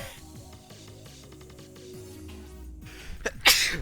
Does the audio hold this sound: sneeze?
yes